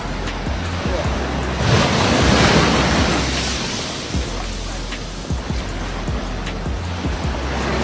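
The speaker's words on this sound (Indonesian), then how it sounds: "Tampak mobil tersebut beberapa kali diterjang oleh ombak." Ocean waves surge and wash up the sand at Kuta Selatan beach around a stuck Pajero Sport, a continuous roaring rush of surf with a louder swell early on, then steady foamy hiss.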